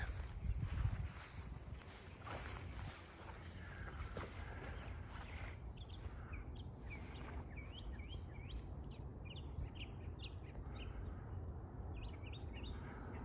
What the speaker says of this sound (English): my background music is provided by my bird friends